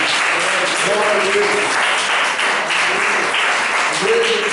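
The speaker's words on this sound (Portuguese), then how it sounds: "uma salva de palmas para Jesus" A church congregation applauds steadily throughout a worship service, a dense wash of clapping with faint voices calling out beneath it.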